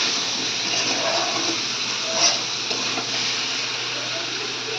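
Hot water poured into a pan of braised, spiced meat gives a steady broad sizzle and hiss, continuous and fairly close, with a brief louder burst partway through.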